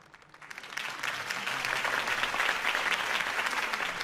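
Crowd applause in Batman: The Telltale Series after Harvey Dent's campaign speech, rising quickly from quiet into a dense, sustained wash of clapping that stays full and even.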